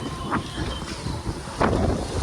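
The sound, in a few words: strong wind during Cyclone Remal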